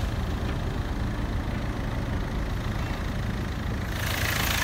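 A 2008 Hyundai Verna with a 1.5-litre diesel engine idles steadily, a smooth, even low rumble and clatter that holds constant throughout, close by with no talking.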